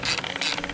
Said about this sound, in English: No, it's just a chain.